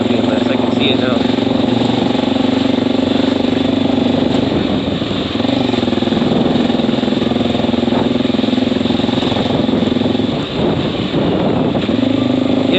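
A Honda XR650L motorcycle engine runs steadily with a rough, throaty exhaust rumble, loud and close, over constant wind noise.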